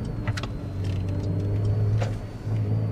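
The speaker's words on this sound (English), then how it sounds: "Sport Plus mode here, by the way, also shifting down with this throttle blip." A Porsche 911 Targa 4S (992) in Sport Plus mode downshifts on the road with a throttle blip, its engine note rising and settling under a steady cabin hum. No one speaks.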